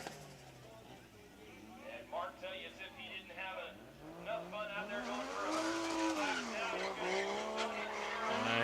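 Race cars drift and skid around a figure 8 speedway, engines roaring steadily with tire squeal rising toward the end, all under a busy commentator's voice talking throughout.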